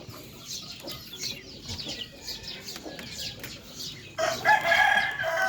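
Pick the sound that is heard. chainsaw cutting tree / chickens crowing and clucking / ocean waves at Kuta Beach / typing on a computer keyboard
chickens crowing and clucking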